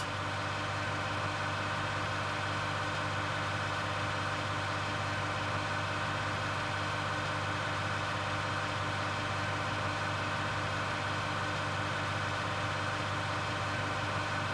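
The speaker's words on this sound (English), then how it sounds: "I can see even this tractor has to work a little bit to pull this gravity wagon up the hill" Tractor engine in Farming Simulator 19 straining as it pulls a gravity wagon uphill, a continuous loud low drone with a steady hum, no talk over it.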